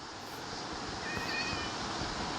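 A cat in the Minecraft video game gives a short meow partway through over a steady wash of game background noise, with no voices.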